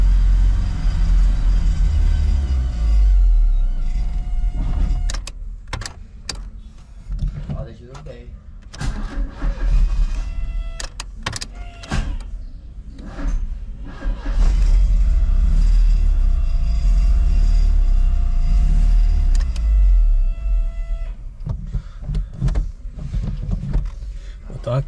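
A 1994 Chevrolet Monza GLS, stored for 19 years, runs with a loud, close engine rumble that rises and falls as it is driven through the gears, broken by sharp clunks and knocks, with someone talking over it.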